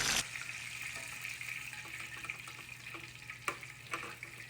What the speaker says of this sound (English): Fry them for 10 to 12 minutes or until their internal temperature is 165.